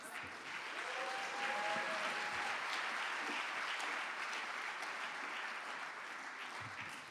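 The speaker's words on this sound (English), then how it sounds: "Let's give them a round of applause." Sustained audience applause for an African American choral ensemble at a Martin Luther King Jr. birthday celebration, a dense even wash of clapping lasting several seconds, with a brief voice near the start.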